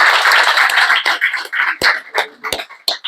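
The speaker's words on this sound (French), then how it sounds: "Vous pouvez vous applaudir" An audience applauds at a French evening talk event, a dense wash of clapping that thins into scattered, separate claps toward the end, with no voices over it.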